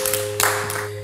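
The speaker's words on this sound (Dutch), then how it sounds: "Dus applaus voor Tahir." Classroom audience claps for a student named Tahir, a short burst of scattered hand claps swelling briefly in the middle, close and lively over a faint steady hum.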